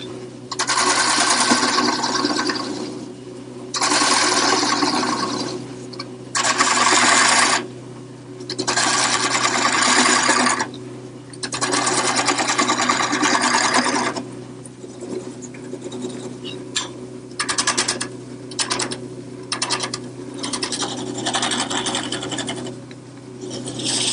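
Woodworking gouge cutting into a wooden workpiece for an outdoor planter, loud rasping bursts of a few seconds each separated by brief pauses, then quicker, lighter scraping strokes, close up and without talk.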